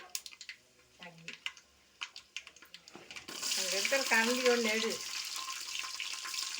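Onion and spices for chicken biryani hit hot oil in a cooker, bursting into a loud sustained sizzle after a stretch of light clattering, while a person talks over the frying.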